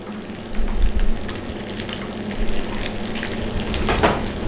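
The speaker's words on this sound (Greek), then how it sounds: "αφού τηγανιστούν και πιάσουν την κρούστα και γίνουν τα ρολάκια όπως πρέπει" Chicken rolls fry in a pan with a steady, close sizzle. Bursts of stirring or turning noise rise and fall through the sizzle. No voices.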